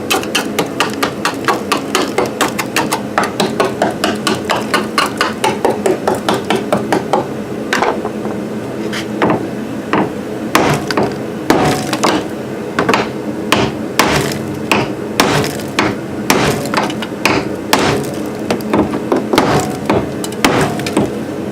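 Someone hammers on a rusted Grand Cherokee hatch mechanism: a fast run of sharp, close metallic taps, then slower, heavier irregular blows continuing steadily, with no talk over them.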